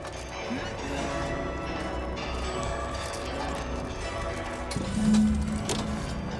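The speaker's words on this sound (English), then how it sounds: "We have to make the bells ring." Bells ringing inside the video game Outer Worlds 2, heard as a dense, busy in-game mix with a louder metallic burst near the end over a low rumbling bed.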